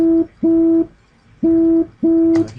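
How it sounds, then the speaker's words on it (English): A low, pure sine-wave synth tone sounds in four sustained notes of steady pitch, each about half a second to a second long, separated by short gaps, clean and alone. "I got a low kind of sine wave sound."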